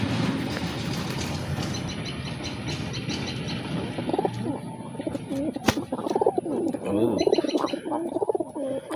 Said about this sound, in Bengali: ডাকগুলি শুনতেছেন, এগুলি কিন্তু মোরগ ডাকতেছে